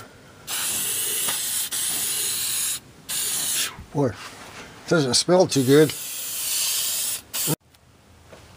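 Aerosol de-rusting spray hisses in long bursts over 1966 Ford Thunderbird parts, steady broadband spurts with short gaps, loud and close, and someone briefly speaks midway.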